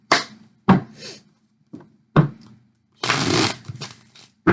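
Tarot cards being shuffled in short riffling bursts, several quick close flutters and slaps with pauses between, ending in a longer, denser riffle.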